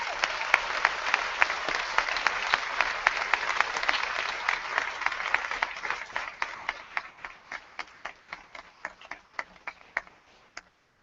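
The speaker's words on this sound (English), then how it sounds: "One more round of applause for Tom Joyce." A commencement ceremony audience gives dense applause that gradually thins out, ending with a few scattered individual claps fading into quiet.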